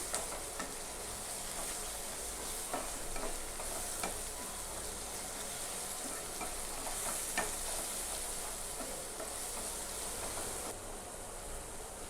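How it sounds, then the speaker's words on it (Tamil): Steady sizzling of spices frying in hot oil for an egg curry, with occasional scraping and stirring clicks from a utensil throughout, no voices. "எல்லாம் சேர்த்து 2 நிமிஷம் நல்லா எண்ணெயில் வதக்கிருக்குறேங்க"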